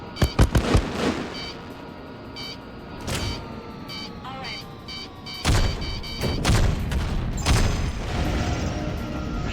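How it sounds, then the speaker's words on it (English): Incoming missiles explode in the space combat game Freelancer, a modded build, in a rapid series of sharp booms and crackling blasts, some clustered close together, with a voice talking between them. "Incoming missile"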